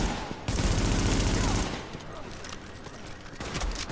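Automatic weapon fire in the Tom Clancy's The Division video game, a sustained loud burst of rapid shots for about a second and a half, then quieter shots and game noise.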